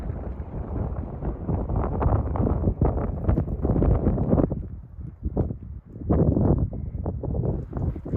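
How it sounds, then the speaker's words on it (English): Wind blows in uneven gusts across the microphone outdoors, a rough low rumble that swells, dips briefly midway, then returns just as strong. "Maybe the wind will change. No, it's not changing."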